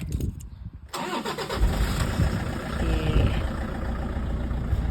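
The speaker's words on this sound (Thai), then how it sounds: "เดี๋ยวเรามาสตาร์ทฟังเสียงเครื่องกันค่ะ" A 2008 Toyota Hilux Vigo 2.5-litre pickup truck engine cranks briefly, then catches and starts, settling into a steady rumbling idle close by.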